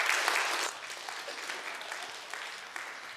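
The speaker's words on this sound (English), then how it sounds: "Yeah, we can clap for that." Congregation clapping after a singer's performance at a church service, loud and full at first, then thinning into scattered claps that fade away.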